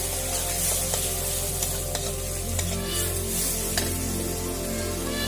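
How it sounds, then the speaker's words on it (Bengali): Ground cumin and coriander fry in a pan for a jackfruit curry, a steady close sizzle with scraping stir strokes throughout and no voices. "দিয়ে আমি এখন মশলাগুলোকে একটু কষিয়ে নেব ভালো করে।"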